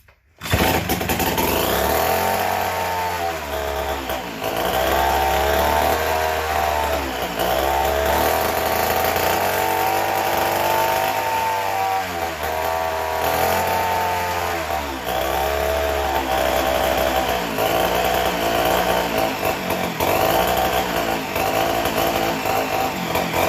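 A McCulloch Model 73 two-stroke chainsaw engine running fast and slightly flooded, loud and close, with a raspy high whine that surges and dips in repeated revving cycles before settling into a steady buzz.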